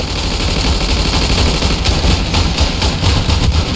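Dense, loud gunfire in a World War I trench battle in the game Ravenfield, rapid machine-gun bursts and overlapping shots forming a continuous barrage.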